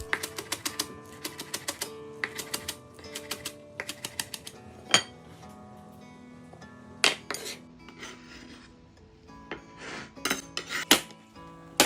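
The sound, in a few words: knife finely chopping spring onions on a board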